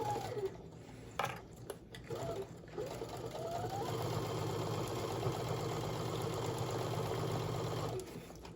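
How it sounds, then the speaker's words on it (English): Sewing machine stitching a seam on the outer fabric of a cosmetic pouch: after a few short stop-start bursts, the motor hums in a steady fast whir for several seconds before stopping, close and fairly quiet. "Back stitch at the beginning and end of this."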